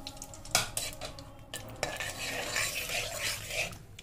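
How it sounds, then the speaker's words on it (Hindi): Cardamom pods and a bay leaf being stirred in hot ghee for carrot halwa: a spoon scrapes and clinks against the metal pan in irregular strokes over a faint, constant sizzle, with no one talking. "अब इसे थोड़ा सा हमें चलाना है।"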